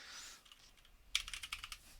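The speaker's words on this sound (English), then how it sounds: "Maybe we'll type out that last one." Typing on a computer keyboard at a desk, a quick cluster of light key clicks in an uneven rhythm following a soft hiss, close and fairly quiet with no speech.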